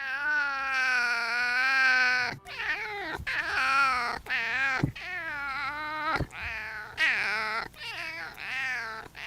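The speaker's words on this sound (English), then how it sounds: "His meow sounds like he's been smoking 2 packs a day for the past 40 years." A cat lets out a series of long, raspy, strained meows and drawn-out caterwauls, loud and close, separated by short pauses.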